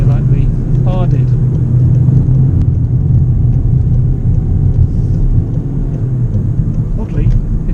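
A VW Golf GTI TCR hot hatch circles a roundabout, its engine a loud, steady low rumble close by for the whole stretch, with brief higher squeal-like tones rising above it now and then.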